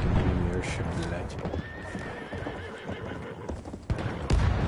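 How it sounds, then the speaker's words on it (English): Horse neighing in the video game Battlefield 1, with hooves clopping amid busy battlefield noise, while players talk over it. "I hear a horse"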